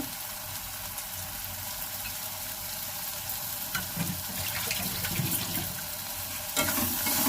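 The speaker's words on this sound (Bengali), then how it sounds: "দিয়ে ভালো করে নেড়ে নেব পেঁয়াজের সাথে আদা রসুনটা।" Ginger and garlic stirred into browned onions sizzle steadily in a hot pan, with occasional spoon scrapes and a louder stir toward the end, close and fairly quiet, no voices.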